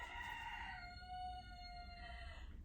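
A rooster crows once from just outside a sunroom, one long rising-then-held cock-a-doodle-doo call, fairly faint but clear over a low background hum, with no talk.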